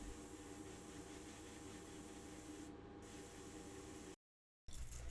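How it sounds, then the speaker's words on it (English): Airbrush spraying Vallejo polyurethane gloss varnish onto the body and doors of a Majorette BMW 3.0 CSI diecast model, a steady hissing spray with a faint mechanical whine that runs several seconds, then cuts off abruptly before resuming. "I airbrush the body and the doors with Vallejo polyurethane gloss varnish to protect the paint"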